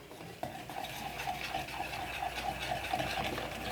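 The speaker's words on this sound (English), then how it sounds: "And then just mix this together." A spoon stirs taco salad dressing with spices and avocado in a bowl, giving soft wet scraping and repeated light clinks against the bowl at a steady rhythm, close but quiet under a low background hum.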